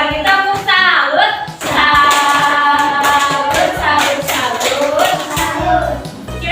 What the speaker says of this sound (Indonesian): Salut lagi, tepuk salut.